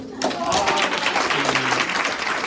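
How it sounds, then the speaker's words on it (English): An audience at a welcome ceremony for the Maritime Science Education Center breaks into sustained applause, a dense wash of clapping that starts abruptly and holds steady, with voices mixed in. "Give her the biggest round of applause"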